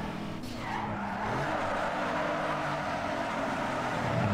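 Tires skid and squeal steadily as a car drifts through a corner in the racing game Need for Speed Underground 2, with engine drone underneath, loud and continuous with no speech.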